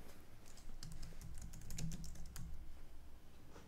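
Keystrokes on a computer keyboard while entering text in OneNote, a quick irregular run of clicks starting about a second in, close and moderately loud, with no talk.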